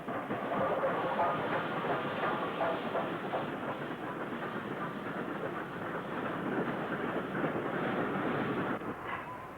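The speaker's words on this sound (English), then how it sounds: "45626 Seychelles arrives on an up perishables train on the 1st of July 1964." Steam locomotive 45626 Seychelles pulling an up perishables train through Bromsgrove in 1964, a continuous loud rumble and rattle of wagons rolling close by, steady throughout with a slight easing near the end.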